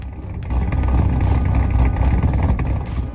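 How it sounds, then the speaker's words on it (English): A Cadillac CT5-V Blackwing supercharged V8 of over 600 horsepower revs in a brief, loud surge of deep engine roar that swells and holds before easing off, with no talk. "It's a V8 supercharged engine with almost 700 horsepower, over 600 horsepower."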